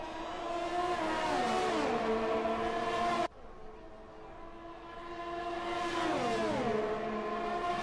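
Formula 1 race cars in a video game run wheel to wheel during a practice session in Belgium, their high engines loudly revving and sweeping past with falling pitch, cut abruptly midway before another car screams by.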